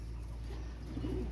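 A Pakistani breed pigeon from a fancier's loft gives a short, soft coo near the end over a steady low background hum.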